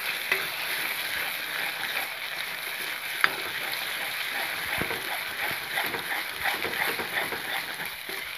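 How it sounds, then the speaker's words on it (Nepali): Turkey egg mixture frying in a pan: a soft, steady sizzle and hiss with a few faint clicks and stirring scrapes, fairly quiet and continuous. "यसलाई हामीले अब मजाले भुट्ने जति हुन्छ"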